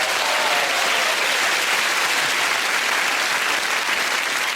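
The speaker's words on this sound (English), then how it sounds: "they're applauding" A studio audience at the QI comedy panel show claps loudly and steadily, a thick continuous wash of applause that holds at full level throughout.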